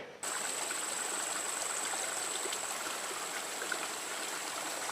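A creek flows steadily on a disc golf course, giving a constant even rush of water with no breaks, moderately near and alone without voices.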